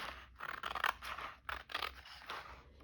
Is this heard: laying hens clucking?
no